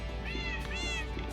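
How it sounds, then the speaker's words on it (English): A cat meows in the Minecraft video game, two short rising-and-falling cries close together, clear and fairly loud over a quiet background. "Oh, little cat meow."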